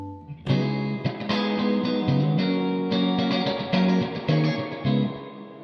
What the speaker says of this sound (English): obviously getting a little carried away with the reverb